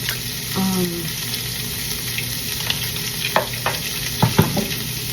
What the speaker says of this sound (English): just like put the tofu in there and then like season everything on top